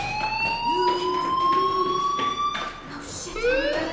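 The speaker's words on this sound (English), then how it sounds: "Hey, do you hear that fire alarm? That means you should be outside." An alarm wails in rising, sliding electronic tones like a siren, sweeping up repeatedly over a few seconds, fairly loud and close inside a building.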